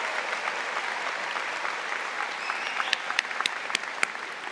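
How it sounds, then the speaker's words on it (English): Steady applause from a large convocation audience honoring graduates, dense and continuous throughout, with a few sharper, closer claps standing out near the end. "Let's have a round of applause for the graduates."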